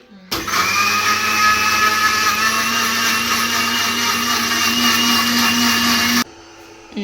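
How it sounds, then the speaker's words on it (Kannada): A kitchen mixer grinder blends juice with a loud, steady, close whirring roar that starts abruptly after a brief pause and cuts off sharply near the end. "ಈಗ ಇನ್ನು ಸ್ಟಾರ್ಟ್ ಮಾಡಿ ಮಮ್ಮಿ ಗೊರ್ರ ಅಂತೇಳಿ ಮಿಕ್ಸಿ"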